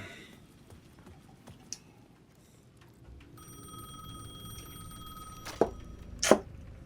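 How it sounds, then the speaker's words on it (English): A payphone at the edge of a plaza rings in Alan Wake 2, a tonal ring starting partway through over quiet ambience, with sharp loud clicks or knocks near the end. "The payphone at the edge of the plaza was ringing again."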